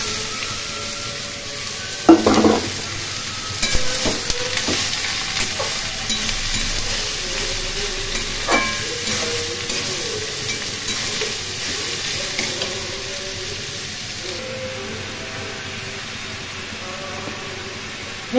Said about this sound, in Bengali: ফোড়ন ভাজা হয়ে গেছে, এর মধ্যে কুচিয়ে রাখা লাউ দিয়ে দিলাম